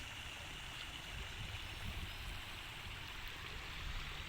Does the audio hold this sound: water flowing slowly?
yes